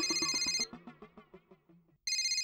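A phone's electronic ringtone plays in loud bursts of bright melodic tones, briefly pauses, then resumes ringing at full volume.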